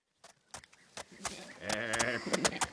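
A sheep gives one wavering, nasal bleat after a few short knocks, close and fairly quiet.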